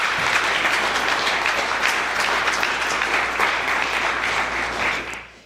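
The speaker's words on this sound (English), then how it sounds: "So we need to applaud ourselves and you for that kind of effort." Volunteers applaud at a celebration and appreciation event at Nordia House, a room full of sustained, dense clapping that holds steady and then fades out at the end.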